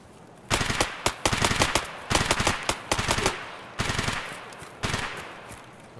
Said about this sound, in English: I feel like somebody found the mounted machine gun.